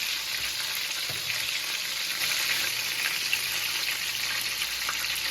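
Country fried venison backstrap sizzles steadily in a pan of oil, a dense, even hiss that runs without break, close and fairly loud, with no voices.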